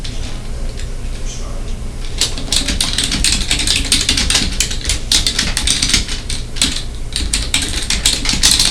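Rapid typing on a computer keyboard while entering invoice notes, with dense irregular key clicks starting after a couple of seconds and continuing steadily, close and clear over a faint room background.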